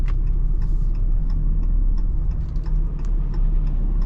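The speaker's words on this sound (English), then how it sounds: "Engine's idling great." A 2018 Ram 2500 Laramie 4X4 pickup's diesel engine idles with a steady low rumble up close, faint ticking clicks scattered over the drone.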